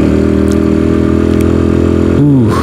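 A self-built motorcycle idles loudly and close by on a foggy mountain road before dawn, with a steady throbbing engine note that briefly revs and falls near the end.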